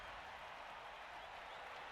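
Steady cheering crowd noise from fans in the video game Blood Bowl 3, a dense, even roar holding at moderate level throughout, with no talk over it.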